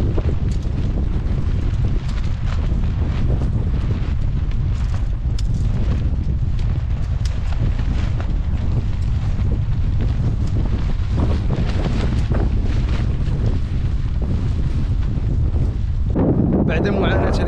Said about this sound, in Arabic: واحد الريح ما يمكنش